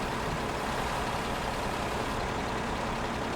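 A tractor pulling a tipper in Farming Simulator 17 runs with a steady, dense engine drone, a continuous heavy rumble at constant loudness with no pauses or voices.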